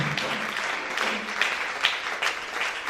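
Church congregation applauding for Jesus during a worship service, a steady broadband wash of clapping with a few sharper claps standing out, sustained for about three seconds.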